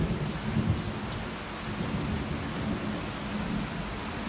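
Steady heavy rain pours down with low rumbling thunder rolling underneath, a continuous storm with no voices.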